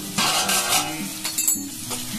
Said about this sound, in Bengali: দেখুন আলুগুলো খুব সুন্দর ভাজা হয়ে গেছে লাল করে